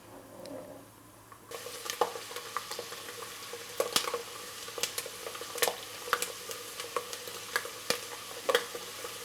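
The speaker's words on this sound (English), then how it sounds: "we are going to add the almonds. There, we want the almonds to roast a little bit." Almonds roast in a cup of hot oil for Greek semolina halva. A soft, continuous sizzle starts after a quiet opening and carries scattered sharp pops and stirring clicks. It is fairly faint, with no voices.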